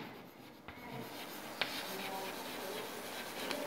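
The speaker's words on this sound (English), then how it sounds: "let me write here" Writing an example sentence for a Class 4 English lesson, a soft, close scratching of pen or marker strokes with a couple of sharp taps, quiet and continuous, no voices.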